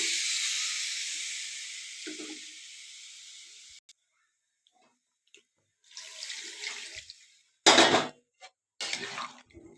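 Water poured into a hot pan of fried soybean chunks for a vegetarian soybean and potato curry sets off a loud, close hiss that slowly fades over about four seconds, followed by a few scattered clanks and stirring noises.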